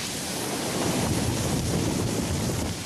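Ocean waves wash across the lava tidal zone at Kilauea, a steady broadband roar of surf with gusty wind noise, continuous and fairly loud throughout with no voices.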